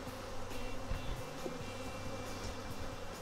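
Honey bees from an aggressive hive buzz continuously, a dense, steady drone of many insects close by with no voices.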